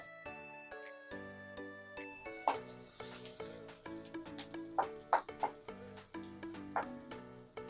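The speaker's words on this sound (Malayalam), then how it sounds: "എണ്ണ ചൂടായി വരുന്ന സമയത്ത് നമ്മൾ ആദ്യമേ അരിഞ്ഞു വെച്ചേക്കുന്ന സവോളയാണ് ചേർത്ത് കൊടുക്കുന്നത്" Chopped onions sizzle in hot coconut oil for a Kerala sadya-style tomato rasam, a steady close frying hiss broken by clinks and stirring taps, with soft background tones and no talking.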